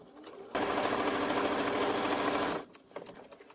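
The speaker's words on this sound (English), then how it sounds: "So I'm just going to stitch a line that will be hidden at the end, so this will go into the seam allowance of the base." A sewing machine stitches a seam line through fabric in one close, loud, continuous burst of about two seconds of rapid needle chatter, with quiet room sound before and after.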